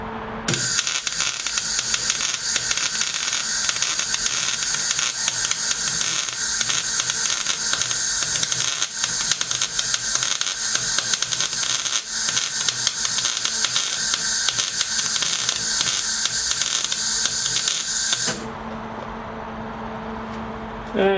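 Welding on parts of an inert M2 .50 caliber machine gun replica in a home garage, a steady loud crackling hiss that runs unbroken for most of the stretch, then stops abruptly near the end, leaving quieter background.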